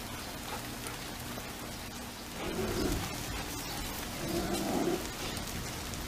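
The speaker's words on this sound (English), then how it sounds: "It's raining, but I'm under these trees." Steady rain falling on trees outdoors, a dense close hiss of drops on leaves that swells slightly in two stretches, with faint rumbling underneath and no voices.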